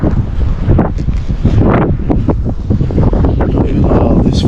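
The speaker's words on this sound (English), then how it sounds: "It's just very, very windy," Strong wind buffets the microphone outdoors on a city street, a loud, continuous roaring rumble with gusty surges throughout.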